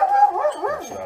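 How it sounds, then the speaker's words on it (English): A dog gives a short burst of yips and whimpering barks, close and fairly loud, in a garage setting during work on a 2003 Chevrolet Silverado HD truck. "Dog's barking."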